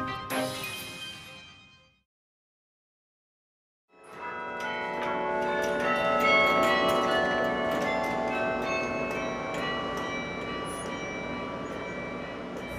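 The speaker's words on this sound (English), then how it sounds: "you hear it chiming the hour" Tower clock bells played live chime the hour: a short loud ring that fades into about two seconds of silence, then a full peal of overlapping, sustained bell tones rings on steadily to the end, with no voices.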